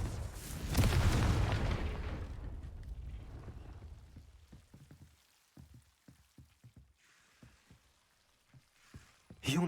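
Fiery spell blasts in Hogwarts Legacy: a loud booming explosion fading into crackling, debris-like patter, followed by scattered small impacts and a final sharp hit.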